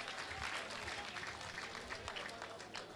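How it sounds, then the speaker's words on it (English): Faint, brief clapping from an audience for students after a debate at a construction artisans awards event, a dense patter of hands sounding distant and quiet, with a murmur of voices underneath. "Please, can we clap for them?"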